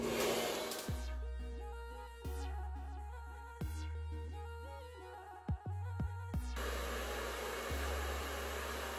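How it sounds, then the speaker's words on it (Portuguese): A hair dryer blows steadily on wet hair, a loud continuous whoosh with several brief dips and bumps as it is moved or switched, running alone throughout. "Então, vamos secar esse cabelo."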